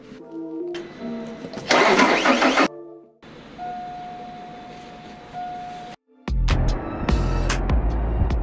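An Opel Astra engine cranks without starting, the starter churning in bursts broken by pauses, with a steady tone between the attempts.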